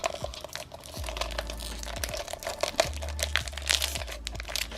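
Treasure X Sunken Gold toy packaging being cut open and pulled apart: close crinkling and crackling of plastic with scattered snips and tears, fairly loud and continuous, with no talking.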